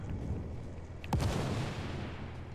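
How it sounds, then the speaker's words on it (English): Grenade blowing up in the Helldivers video game: one muffled, fairly distant boom with a low rumble that fades over a faint continuous background hiss. "Throwing grenade."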